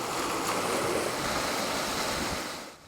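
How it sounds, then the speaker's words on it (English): Floodwater from a creek behind strawberry fields in Salinas rushes down and overflows onto a road, a loud, steady broadband roar that fades slightly at the end. "The creek in the back from the strawberry fields, the water rushes down, overflows and starts coming through the road."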